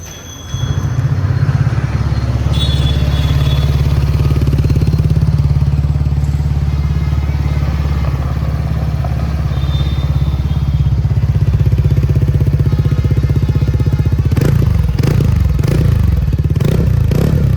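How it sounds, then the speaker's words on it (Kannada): A TVS Ntorq 150 scooter idles close up with a steady, loud exhaust drone, then revs in a few sharp blips toward the end. "ಹಾಗೆ ಒಂದು ಸ್ಕೂಟರ್ ನ ಎಕ್ಸಾಸ್ಟ್ ನೋಟ್ ನ ನೋಡ್ಕೊಂಡು ಬರೋಣ ಬನ್ನಿ."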